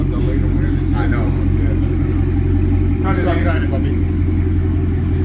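A Ford Mustang exhaust rumbles at a deep steady idle, loud and close, while people talk over it.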